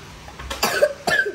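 A person coughing twice in quick succession in a hotel room in Kolkata, two short rough bursts about half a second apart over a faint background hiss.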